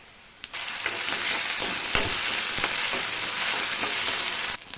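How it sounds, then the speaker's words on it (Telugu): Ginger garlic paste hits hot oil with onions in a pan, bursting into a loud, continuous sizzle that starts abruptly and runs steadily before cutting off at the end. "తరువాత అల్లం వెల్లుల్లి పేస్ట్ వేసుకోవాలి."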